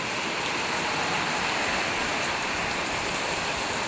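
Steady, dense rain pouring down in a village, a continuous broadband hiss with no breaks, close and fairly loud.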